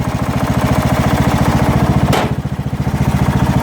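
A Craftsman LT1000 lawn tractor engine runs loud and close with a steady, fast chugging idle that shifts slightly partway through, with no voices.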